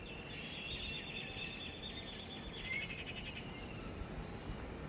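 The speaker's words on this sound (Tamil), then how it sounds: "சத்தம் பாருங்கள் குருவிங்க கிளிங்க காக்கா எல்லா சத்தமும் இருக்குது பாருங்கள்" A dense chorus of sparrows, parrots and crows chirping and calling outdoors, with shrill tweets layered over a steady bed of background noise.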